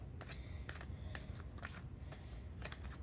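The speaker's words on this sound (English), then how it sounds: "one more shuffle" A deck of playing cards being shuffled in several quick riffling bursts, close and fairly quiet, each burst a crisp flutter with short pauses between.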